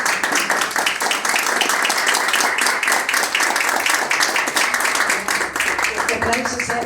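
An audience applauds at a book presentation, giving a dense, loud round of clapping that holds steady for several seconds before thinning slightly at the end.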